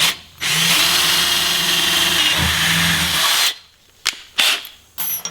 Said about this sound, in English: make a hole right here. So I'm going to start off with a small bit to get it started